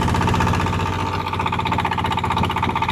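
A small trawler boat's engine chugs on a river at Guliakhali with a steady, loud, throbbing drone. It runs unbroken throughout, without any talking.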